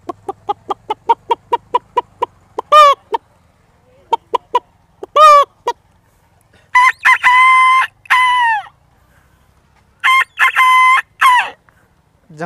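A voice imitates a wild jungle fowl, first with a quick series of short clucks, then several drawn-out crowing calls, loud and close, with pauses between bursts.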